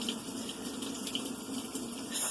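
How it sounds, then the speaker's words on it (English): Water runs steadily into a repaired Samsung washing machine as it fills, a constant close hiss and gush of flow with no voices. "It's flowing. It wasn't filling with water before."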